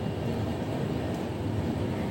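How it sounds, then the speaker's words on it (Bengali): Saraighat Express train running at speed over a long rail bridge, a steady low rumble and roar heard from inside the carriage, even and continuous. "ট্রেন বেশ ভালো গতিতেই এগিয়ে চলছে।"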